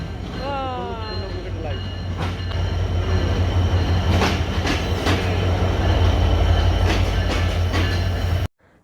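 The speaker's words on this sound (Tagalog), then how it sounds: "So, ayan na yung train." Passenger train pulling into a station on the Jessore to Dhaka line, a loud, close rumble of wagons with clattering wheels and rising squeals, ending abruptly, with voices faintly underneath.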